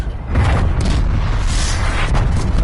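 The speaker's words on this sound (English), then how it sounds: "Like some explosion or something?" A loud, rumbling explosion in the multiplayer shooter Call of Duty: Black Ops Cold War, swelling into a dense, sustained roar that fills the whole stretch.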